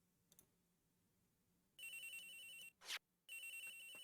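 A phone rings in the Ace Attorney Investigations video game, two loud electronic ringtone bursts with a brief bright chime between them, clear and steady, with no talking.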